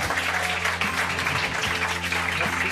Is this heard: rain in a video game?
no